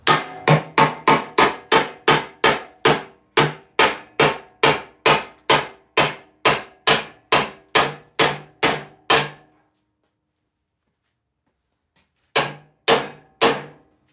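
A hammer strikes in a fast, even run of about two dozen sharp, loud blows, then stops, then lands three more hits after a short silence.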